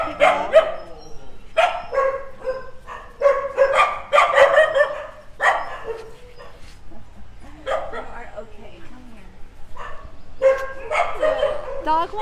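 Dogs at the Soi Dog Foundation shelter in Phuket bark and yip in repeated bursts, some close and loud, with whimpers between, while an adult and someone talk nearby.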